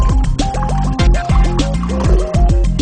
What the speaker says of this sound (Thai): เริ่มต้นด้วยการใส่น้ำลงไปในเหยือกเปล่านี้นะครับ